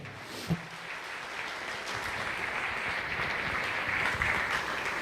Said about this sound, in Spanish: Para ustedes un fuerte aplauso